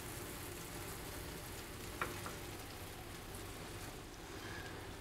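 An omelette fries in a pan while being stirred, a quiet, even crackling sizzle with a brief utensil tap partway through and a faint rain-like hiss throughout, no talking.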